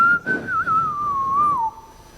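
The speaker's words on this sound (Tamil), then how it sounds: "est-ce qu'il peut siffler comme ça?" A person whistles a single sustained, wavering tune for about two seconds, clear and close, with no talking over it.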